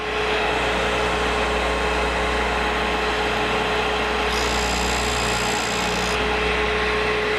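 A drill point grinding machine hums steadily and loudly with a whining grinder tone, continuous throughout, and a higher grinding pitch joining for a couple of seconds as it grinds a drill point.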